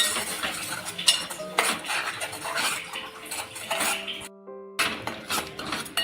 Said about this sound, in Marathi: आता हे आपल्याला एक दोन तीन मिनटं छान असं परतून घ्यायचं आहे